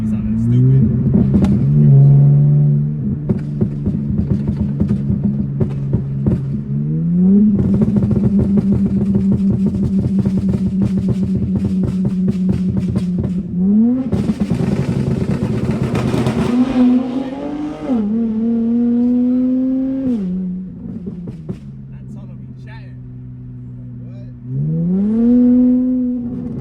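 A hoodless Dodge Charger revs inside a tunnel, its engine rising and falling through repeated loud, echoing pulls and crackly burbles, close and dominant throughout with occasional voices underneath.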